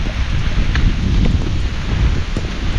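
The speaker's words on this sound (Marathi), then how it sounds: "पाऊस काय थांबायचं नाव घेत नाही" Heavy monsoon rain and wind in a Konkan forest, a steady dense wash of noise with gusts and rustling, loud and continuous throughout, no talking.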